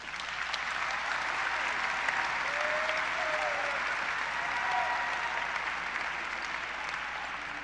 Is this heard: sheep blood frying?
no